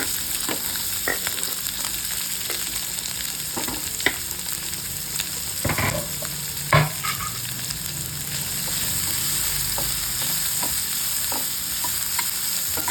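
Onion, cumin, mustard seeds and green chilli frying in oil in a pan for egg bhurji, giving a continuous crackling sizzle with occasional sharp clinks of a stirring spoon, close up and without voices.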